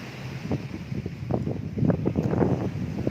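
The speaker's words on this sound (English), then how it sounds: "The wind's died down a bit." Wind by the sea buffets a phone microphone in uneven low gusts and rumbling thumps, close and moderately loud, with no voice.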